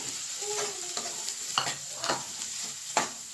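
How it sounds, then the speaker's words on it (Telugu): Finely chopped onions dropped into hot oil in a pan sizzle steadily, with a few sharp scraping clinks of a spatula against the metal, close and moderately quiet, no talking. "ఉల్లిపాయలు వేసుకుందాం ముందుగా మెల్లిగా వేసుకోండి ఆయిల్ తిరుగుతుంది"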